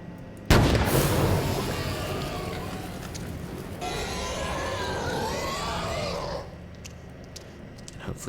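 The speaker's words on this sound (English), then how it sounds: "I wonder if we can shoot this guy with a flare" A flare gun fires in a horror video game, a sharp blast followed by a long roaring, crackling burn that fades after several seconds, loud and close with no talk.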